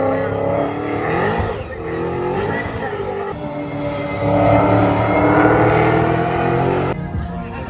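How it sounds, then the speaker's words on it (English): A Toyota race car runs demonstration laps at the Bathurst circuit, its engine droning loudly and steadily with shifting pitch as it passes, without speech over it. "We're about to watch the demonstration laps of the Toyota car for next year."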